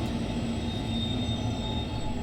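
A train in a Dovetail train simulator video game runs with a steady, loud rumble and a sustained wheel or motor whine, continuous throughout with no talking.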